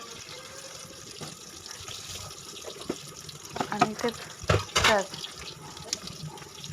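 Water splashes and trickles into a pan on a gas stove in a few short pours, close by, while someone speaks briefly.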